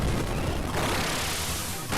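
Bomb explosion in Kirby Super Star Ultra, a loud, dense blast that roars steadily across the whole moment without letting up, with no voices over it.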